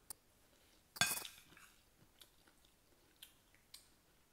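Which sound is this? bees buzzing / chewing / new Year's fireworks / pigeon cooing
chewing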